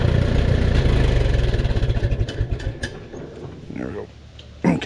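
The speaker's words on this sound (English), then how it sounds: "good running tractor, that's for sure." A Minneapolis Moline M5 tractor engine runs with a steady low chugging drone, loud at first, then its beat loosens as it dies down toward the end.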